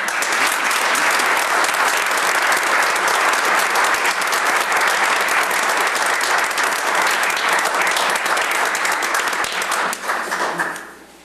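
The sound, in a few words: audience applause at village board meeting award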